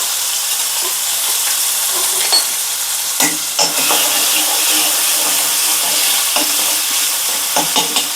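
Fennel seeds, a piece of cinnamon, garlic, onion and curry leaves sautéing in oil for Tamil mutton kola urundai, a steady bright sizzle with a few scraping stir clicks; no talking.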